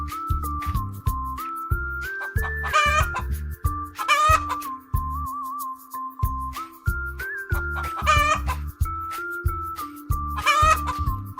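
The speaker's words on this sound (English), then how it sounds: "hen," A hen clucks in repeated short rhythmic bursts close by, broken by a few louder squawking calls, over a steady tonal background note.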